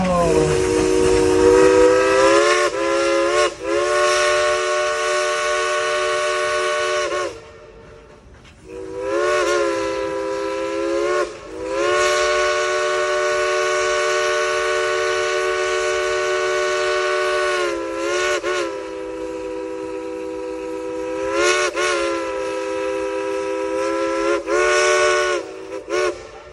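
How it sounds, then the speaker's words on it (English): Dollywood steam locomotive Engine #70 sounds its chime whistle in several long sustained blasts separated by brief pauses, loud and close, with steam hissing between blasts and no voices. "1, 2, 3, blow the whistle!"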